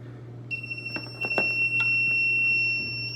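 A coax cable toner emits a steady high electronic tone with a second pitch above it, beeping continuously alongside a low hum and a few small clicks.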